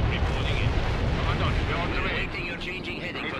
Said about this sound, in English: Can I just, like, napalm the buildings?